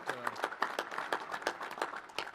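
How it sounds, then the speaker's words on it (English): Audience at a National Space Council meeting gives a modest round of applause, scattered individual claps in a loose, even rhythm, fairly quiet, with a brief tonal sound at the start. "you can give him a big round of applause as well"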